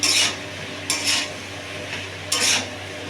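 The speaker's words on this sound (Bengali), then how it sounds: "এবার আমি এই কুমড়োটাকে ওর মধ্যে দিয়ে দেবো।" Pumpkin pieces added to a pan of fried shrimp, with a few short metallic scrapes and clatters of a spatula against the pan in quick bursts over a low background hum.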